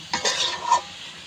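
Pieces of koral fish being stirred into a spice masala in a pan, a brief close burst of scraping and sizzling with a metallic clink of the utensil, no voices.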